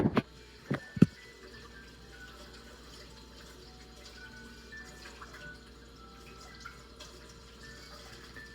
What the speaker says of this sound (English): let's go ahead and give these a nice rinse